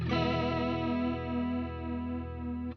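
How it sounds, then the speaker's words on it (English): Guitar played through a Roland JC-120 amplifier with its chorus vibrato switched on, one sustained chord wavering steadily in pitch for nearly three seconds, loud and close with no talking. "So it really is taking the sound and doing as much as it possibly can with it to make it vibrato-y"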